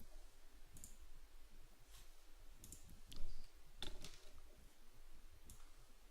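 Keyboard shortcut keys pressed on a computer while building a task pipeline, a scattering of sharp, quiet clicks spread unevenly across the moment with a slightly louder burst partway through, no voices.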